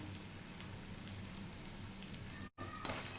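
Macaroni frying in hot oil for a crispy kurkure snack gives a steady, close sizzle with fine crackling and a few sharper pops, continuous apart from one brief cut.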